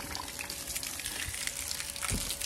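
Water pumped from a tank by an electric motor set under a sack, a steady close rushing gush with a faint motor hum running underneath and a brief louder surge near the end.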